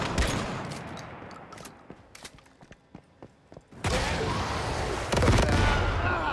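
Shotgun blasts in a video game, a burst of loud firing up front, then scattered sharp shots, then heavy sustained gunfire and explosions filling the end.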